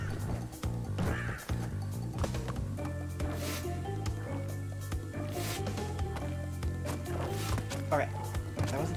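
Birds cawing in the video game Crash Bandicoot, a few harsh game calls mixed into busy background music and sound effects, with a person talking over the gameplay.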